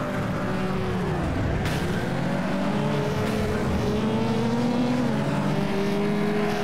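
Race car engine from the FlatOut racing game, a steady loud roar with pitch sweeping down then climbing again as another car pulls away ahead.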